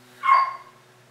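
One short bark from a Siberian Husky, moderately loud and slightly distant, with a quiet hum underneath.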